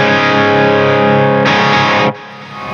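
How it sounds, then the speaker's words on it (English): A dirty, distorted electric guitar chord rings through a Hughes and Kettner amp. It sustains thick and loud, then cuts off abruptly into a quieter tail. "So the Hughes and Kettner is our dirty sound."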